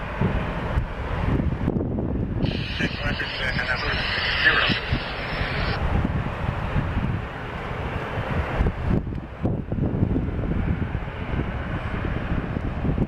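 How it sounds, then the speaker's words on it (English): An Alaska Airlines Boeing 737 MAX 9 jet sits on runway 16L at Seattle, its engine a steady, broad roar heard from a distance through heavy wind buffeting on the microphone. "There is an Alaska 737 MAX 9 on the runway, 16 left as you guys can see."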